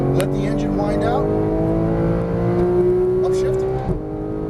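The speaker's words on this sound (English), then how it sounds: "hold it down. Let the engine wind out." A Porsche GT3 991 engine is held at full throttle and winds out, a loud, steady rising engine tone heard from inside the car while a person talks over it.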